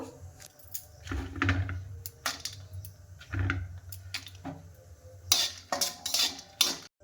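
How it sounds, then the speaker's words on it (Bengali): Dry chilies, cumin, bay leaves and five-spice seeds toast in a dry pan for raw mango pickle, heard as irregular metallic clinks, scrapes and rattles of a utensil stirring, with pauses in between. "শুকনো খোলাতে মশলাগুলো ভেজে নেব"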